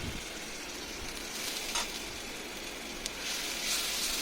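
Ginger, garlic and green chili paste fries in a pan while cooking figs, a soft steady sizzle close by with a few faint stirring scrapes and no talk.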